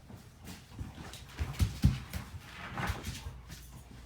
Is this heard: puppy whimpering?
yes